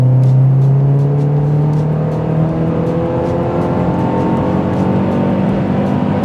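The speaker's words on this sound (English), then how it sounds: "do our 60 to 100 straight 4th gear pull, no shifting" A MazdaSpeed 3 makes a straight 4th gear pull from 60 to 100 with no shifting, its engine droning loud and steady from inside the car as the pitch climbs slowly.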